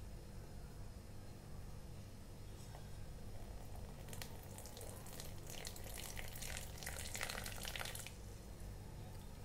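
Water poured from above onto a pomegranate juice stain on fabric, a steady splashing trickle that swells midway and runs on over a low background hum, with no talking.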